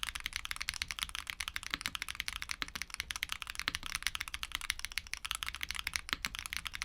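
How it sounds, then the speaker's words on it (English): Typing on a keyboard with Gateron tactile mechanical switches gives a quick, continuous stream of sharp, high-pitched, clacky keystrokes, close and fairly quiet, with no voices. "This distinctive feel is complemented by its loud, high-pitched clacky sound signature."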